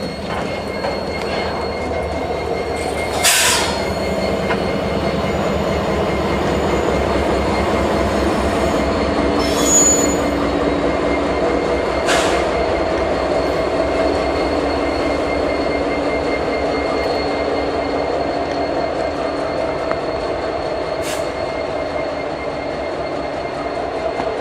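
Freight train with two EMD SD70ACe and one GE C40-9W locomotives shoving cars into Rickenbacker Yard, a continuous close rumble of rolling cars with steady wheel screech and occasional sharp metallic bangs, no talking.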